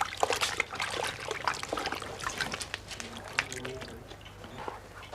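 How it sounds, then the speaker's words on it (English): Water trickling and splashing as leather is soaked to make it soft and pliable in a saddler's workshop, with a steady dribbling stream and wet squishing, close and fairly quiet, with no talk. "The leather is then soaked to make it soft and pliable."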